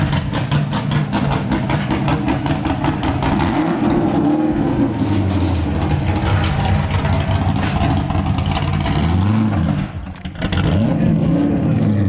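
A nitrous C5 Corvette engine revs hard and repeatedly, loud and close, its pitch sweeping up and down between throaty idle and high revs, with a brief dip before another rise.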